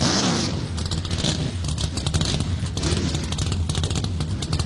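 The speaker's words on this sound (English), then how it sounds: "A field of 26 roars to life on the pit lane." A field of NASCAR ARCA Menards West race car engines firing up together on pit lane at Phoenix, a loud, continuous roar of many engines revving at once without let-up.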